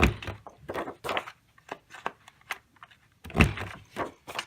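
A built-in corner rounder on an envelope punch board punching the corners of a paper card, giving a series of sharp, close plastic thunks and clicks in an uneven rhythm with short pauses between punches.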